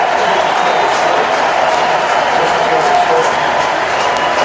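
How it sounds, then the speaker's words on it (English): A crowd at a baseball game makes a steady, dense roar of cheering and noise, loud and continuous throughout with no distinct breaks. "The crowd is really stoked."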